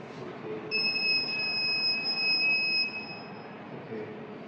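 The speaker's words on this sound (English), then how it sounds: "So by this buzzer, the human can understand he should move and go." Buzzer of a smart blind stick built with sensors, sounding as it detects an object: a thin, high, steady electronic tone that starts after a short pause, holds for about two seconds and cuts off, over low background noise.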